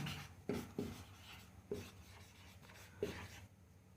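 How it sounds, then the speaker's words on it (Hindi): Chalk or marker writing out the definition of work on a classroom board during a physics lesson on work and energy, with short scratchy strokes in a few separate bursts at moderate distance, no talking. "अब मैं वर्क की डेफिनेशन लिख रहा हूँ।"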